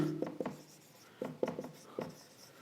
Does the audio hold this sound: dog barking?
no